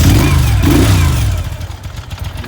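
A 2004 Moto Guzzi V11 Sport V-twin with aftermarket Fast-By-Ferracci exhaust pipes revs loudly up close, a deep throbbing burst that drops back to a lower, rougher idle after about a second and a half.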